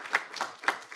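An audience at a formal agreement ceremony claps briefly for an introduced guest, a short burst of scattered hand claps at moderate distance.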